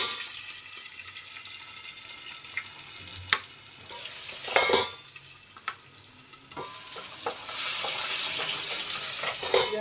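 Garlic frying in a pan with curry leaves and dried red chillies, a continuous close crackling sizzle broken by scraping stirs and a few sharp clacks, building to a denser, louder hiss toward the end, with no talking.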